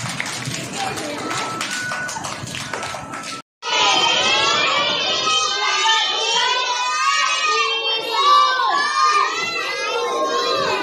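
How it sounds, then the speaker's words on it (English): A class of kindergarten children clapping for themselves, a dense, sustained burst of many small hands applauding with children's voices mixed in. "Clap all of you. Clap for yourself."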